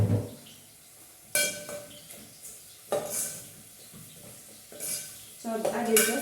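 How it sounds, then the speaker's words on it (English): Beef stirred in a pot with a little oil while frying, for a Kenyan beef stew: scraping and clinking of the spoon against the pot in several bursts, with faint sizzling underneath. "So it's like we are frying now."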